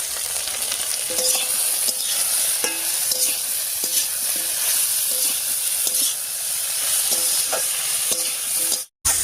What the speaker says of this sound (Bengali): দিয়ে দিচ্ছি রসুনের কোয়া, পেঁয়াজ বড় বড় করে কেটে রেখেছিলাম, আর দেবো টমেটো, আর সঙ্গে দিয়ে দিচ্ছি কয়েকটা চেরা কাঁচা লঙ্কা